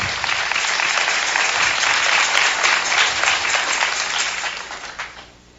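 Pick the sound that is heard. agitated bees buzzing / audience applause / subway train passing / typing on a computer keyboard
audience applause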